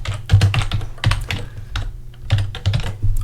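Fast, uneven clacking of keys on a computer keyboard while someone writes code, close and crisp, in quick bursts separated by short pauses, with no voices.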